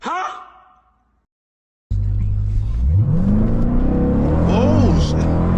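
A 710 HP 2025 Dodge Durango Hellcat launches hard after a short voice and a moment of quiet, its engine roaring loud and close as the pitch climbs steeply through the revs.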